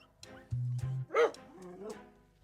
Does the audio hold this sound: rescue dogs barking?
yes